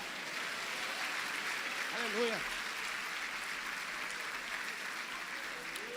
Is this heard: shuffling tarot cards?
no